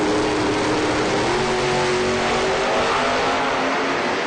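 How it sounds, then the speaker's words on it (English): A white Mustang drag car launches hard off the start line at a drag race, its engine roaring loud and steady with rising pitch as it pulls away. "Mustang's got the advantage on the start."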